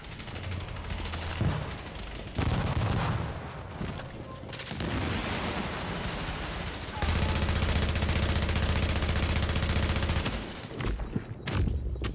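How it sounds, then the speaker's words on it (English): Enemy machine gunners in the video game The Division fire long, dense sustained bursts, loud and near, with pauses between volleys and a voice talking at times beneath the gunfire. "Oh, these are the machine gunners."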